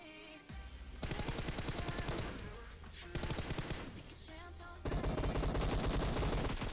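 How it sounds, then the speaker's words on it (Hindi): Rapid automatic gunfire in PUBG Mobile as a player pre-fires at an approaching enemy, dense bursts of shots in several stretches with brief pauses and game ambience between them. "मेरे को यहाँ से बंदे की आवाज़ आने लगी एंड मुझे पता चल गया कि लेफ्ट से आ रहा है, तो मैंने प्री फायर पहले ही दे दिया बंदे पे"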